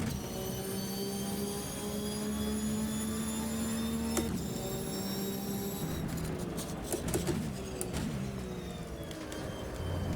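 A race car's engine in the Automobilista sim during a Boxer Cup round at Imola drones steadily, its pitch shifting as the throttle is applied, a moderately quiet continuous whine with a brief sharp change midway.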